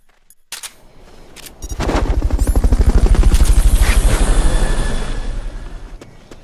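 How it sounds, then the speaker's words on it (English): Helicopter in the video game Metal Gear Solid: Peace Walker, a loud rapid rotor chop that swells in, holds strongly with a gunfire-like pulsing rhythm, then fades away, with no talking. "Fulton recovery subject confirmed onboard helicopter."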